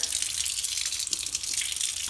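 A paintbrush is rinsed under running tap water in a sink, a steady close gush and spatter that swells slightly as the brush moves through the stream, with no voices.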